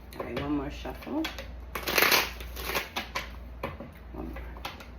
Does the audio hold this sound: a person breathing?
no